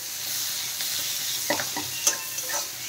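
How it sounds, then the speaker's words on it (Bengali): Chopped onions fry in oil with cumin and green chillies, giving a steady close hiss, with stirring scrapes and a few sharper crackles toward the end and no talk. "পেঁয়াজগুলো হালকা ভেজে নেব"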